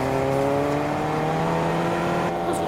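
A taxi driven in the Fortnite video game, its engine giving a steady, continuous droning hum with a faint rising whir, close and loud with no talking.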